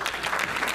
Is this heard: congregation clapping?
yes